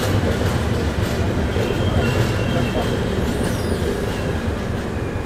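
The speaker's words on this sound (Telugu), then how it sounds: "30th హాల్ట్ అవుతుంది మన విశాఖ ఎక్స్ప్రెస్." The Visakha Express rumbles loudly and continuously at Kaikaluru railway station as it halts at the platform, with a steady heavy roar of wheels and cars and faint high squeals over it.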